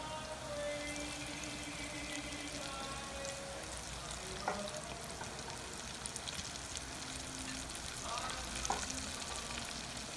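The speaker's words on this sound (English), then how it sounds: "Just keep monitoring it if you are not deep frying it, and still, even if you are deep frying it, still monitor it a lot on your stove" Cauliflower nuggets frying in oil in a pan on a stove, a dense continuous sizzle and crackle with occasional louder pops, close and steady throughout.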